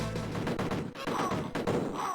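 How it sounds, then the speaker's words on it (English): Rapid bursts of gunfire and explosive blasts from the Amiga video game Cannon Fodder, several quick overlapping shots in a short busy volley at moderate loudness. "Where did that rocket come from?"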